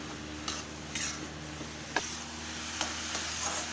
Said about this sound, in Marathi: हे आता घट्ट होईपर्यंत आपण हलवून घेऊया।